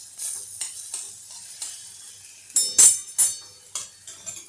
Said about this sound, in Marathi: यामध्ये परतून घेऊया. हे फक्त जळायला नको